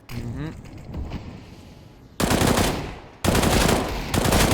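Automatic gunfire in Counter-Strike: Global Offensive during an online tournament match, two loud sustained bursts of rapid shots cutting in after a quieter stretch of game ambience.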